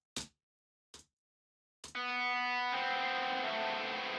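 Three short picked notes ring out into silence, then a sustained lead electric guitar chord blooms with heavy reverb, its long shimmering wash filling the remainder.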